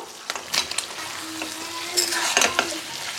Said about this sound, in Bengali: আলুটা অ্যাড করে একটু নাড়াচাড়া করে নিয়েছি।